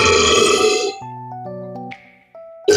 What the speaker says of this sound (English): Burping the Alphabet.